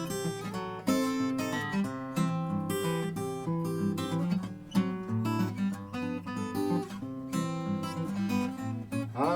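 Travis-style fingerpicked acoustic guitar plays a song, an alternating bass under a bright melody in a steady, even rhythm, close and clear with no voice.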